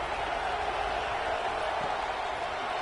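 A college football stadium crowd roars in a sustained, broad cheer, loud and steady throughout, with an announcer's voice faintly mixed in.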